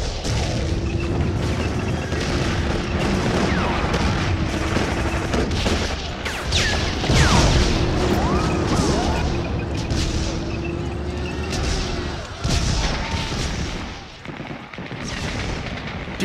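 Dense, continuous battlefield barrage of mortar and gunfire supporting a first-wave beach landing in a war game, with overlapping booms and rattling shots packed tightly over a constant loud roar.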